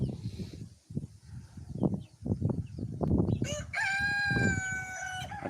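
Rooster and chickens on a farm, with soft clucking and scratching followed by a loud, close cock-a-doodle-doo crow.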